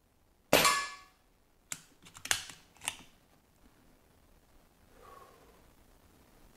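A Diana Bandit air pistol with a regulator fires one sharp, loud crack, followed by a few quieter metallic clicks and clacks as it is handled, then near silence with a faint rustle.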